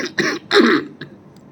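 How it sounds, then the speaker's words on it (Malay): A man clears his throat and coughs in a few harsh bursts, close and loud, during a mosque lecture, with no speech around them. "Batuk ni belum hilang-hilang."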